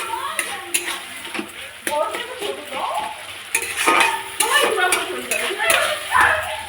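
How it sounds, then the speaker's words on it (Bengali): Spice masala sizzles in hot oil after a splash of water, stirred with a spoon that scrapes and clinks against the pan in irregular strokes, close and fairly loud, while a voice talks over it. "মশলাটা কষানো হোক, তেল ছাড়ুক মশলাটা দিয়ে।"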